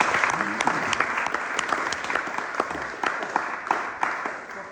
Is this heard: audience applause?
yes